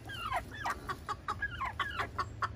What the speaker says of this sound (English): So there's a Mr. Rooster and a hen.